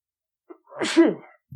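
A single sharp sneeze, close and fairly loud, with a soft breath before it and a brief voice right after.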